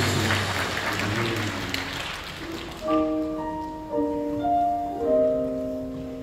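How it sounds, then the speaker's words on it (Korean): Applause rises from a church congregation during a worship service, a dense clapping wash that fades after a couple of seconds as sustained organ or keyboard notes enter and carry on alone. "우리 가운데 계시는 성령 하나님께 감사의 찬양에 큰 영광의 박수를 올려주시옵소서."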